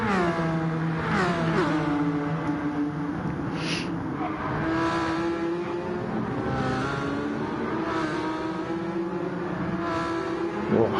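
GT1 race cars at Le Mans in a racing video game, several engines droning and revving together at steady loud volume, pitch sliding up and down through gear changes as cars run close in a pack.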